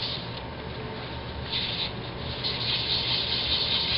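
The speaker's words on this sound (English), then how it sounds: "try the last step, which is just resurfacing the CD by sanding it" Steady rubbing of sandpaper worked in circles over a scratched Xbox 360 game disc, a continuous dry abrasive hiss that swells a little louder partway through, close and alone without talk.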